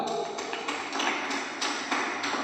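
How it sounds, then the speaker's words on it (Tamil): A congregation claps hands during a Tamil church sermon, a steady series of sharp claps in a loose rhythm, fairly close and continuous. "கையை தட்ட அவருக்கு."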